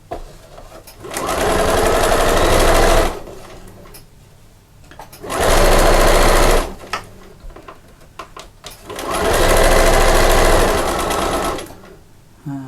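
A sewing machine stitches fabric in three loud, steady bursts of a few seconds each, separated by quiet pauses, close up and alone.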